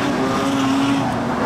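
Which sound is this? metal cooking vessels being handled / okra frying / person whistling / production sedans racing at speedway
production sedans racing at speedway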